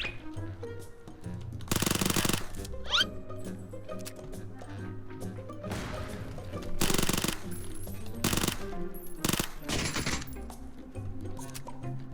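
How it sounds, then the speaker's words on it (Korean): Bursts of rapid gunfire in the video game PUBG erupt repeatedly over background music, several loud volleys separated by short gaps, with a few single shots in between. "여기 지금 총소리 하나 더 들렸죠?"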